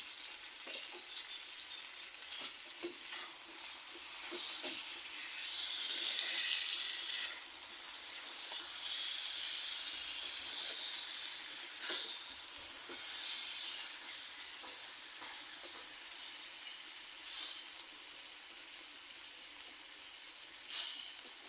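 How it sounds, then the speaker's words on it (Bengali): Meat frying in a pan gives a continuous bright hiss and sizzle at steady volume, dotted with small pops and crackles, with no speech over it. "একটু ভাজা ভাজা করে নিব মাংসটা, তাহলে কাঁচা মশলার গন্ধটা চলে যাবে না"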